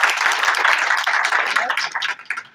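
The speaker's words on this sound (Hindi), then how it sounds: "तालियां बजा दिया करो" Audience clapping at a school Children's Day celebration, a dense burst of many hands that continues steadily before thinning out and fading near the end.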